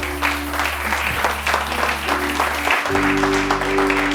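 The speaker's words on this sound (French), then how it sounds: "Acclame le Seigneur, acclame le Seigneur, acclame le Seigneur." A church congregation claps along during a worship song, steady rhythmic applause over sustained musical tones throughout.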